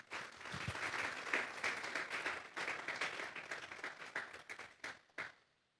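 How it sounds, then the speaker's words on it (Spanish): A church congregation claps together in warm, sustained applause that builds, holds steady for several seconds, then thins out and fades to quiet, heard from within the room. "Vamos a darle un fuerte aplauso pues al Señor."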